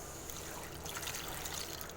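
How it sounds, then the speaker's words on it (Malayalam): A cup of water is poured into a pan of jaggery for kalathappam, giving a soft, brief trickling splash that swells in the middle and fades, quiet and close with no talking. "ഇനി ഇതിലേക്കൊരു കപ്പ് വെള്ളം ഒഴിക്കുക"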